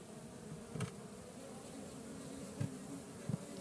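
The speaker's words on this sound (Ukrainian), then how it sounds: "Досить хороший рій." A swarm of honeybees hums at a hive in a field, a steady low droning buzz that fills the background throughout, with a few brief louder passes of bees flying close.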